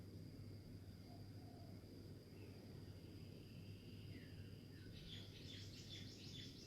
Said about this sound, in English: Noticing the sounds of the bird songs, the crickets